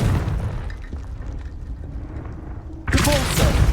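A Confringo fire spell in Hogwarts Legacy goes off as a sudden loud, broad blast near the end, cutting through a low rumbling game background.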